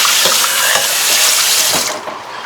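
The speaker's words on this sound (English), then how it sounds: "usually what I do is I just leave our water running" Tap water running steadily into a kitchen sink while dishes are washed, a loud continuous hiss and splash with a few soft clinks, easing off near the end.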